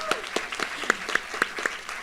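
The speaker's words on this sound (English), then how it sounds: "And one more round of applause for all of our student award winners." Audience applause fills a university nursing graduation ceremony honoring student award winners, a steady patter of many hands clapping at moderate volume.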